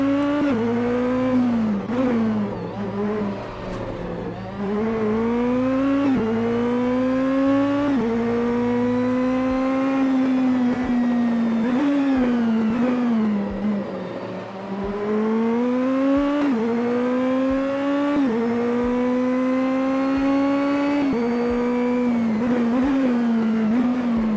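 A race car at speed on a hot lap around Detroit, past 200 km/h: a loud, close engine howl climbs and falls again and again through the gear changes. The roar continues steadily throughout with no talking.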